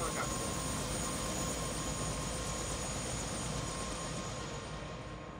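Helicopter rotor and engine drone in the video game Prey, a steady, dense broadband whir that holds near and constant throughout, with a voice speaking over it.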